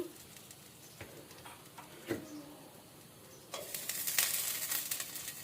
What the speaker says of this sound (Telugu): నేను ఇక్కడ పచ్చిది వెన్న వేస్తున్నానండి పోపు కొరకు ఆ వెన్న మొత్తం మంచిగా మెల్ట్ అయిపోయే వరకు